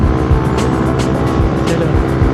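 A Yamaha Aerox V2 scooter roars at full throttle on a road ride, its loud engine drone mixed with heavy wind rush and a slight rise and fall in pitch.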